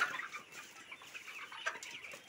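Layer hens clucking softly in a bamboo cage, a steady close chorus of short murmuring clucks with no voices over it.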